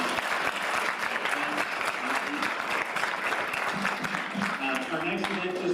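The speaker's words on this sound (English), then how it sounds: "Let's give a round of applause" Audience applause after a closing thank-you at an evening event, a dense, steady patter of many hands clapping at once, held at an even level the whole time with no voices breaking through.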